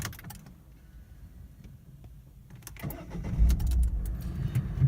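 A Citroen C Elysee with a 1.6 diesel engine cranks with a few clicks and then fires into a low, rumbling idle, heard close up inside the car.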